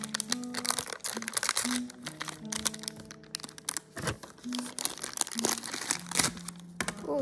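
Plastic packaging around a block of black modelling clay crinkles and crackles as it is cut open, a close, irregular series of rustles and snaps with no talking.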